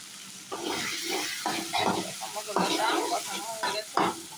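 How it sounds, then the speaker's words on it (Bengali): Spices with turmeric being sautéed in oil for a fish and papaya curry; a steady sizzle with repeated stirring scrapes, while a voice talks over it. "হলুদ দেবো, এবার ভালোভাবে মশলাগুলো ভালোভাবে কষিয়ে"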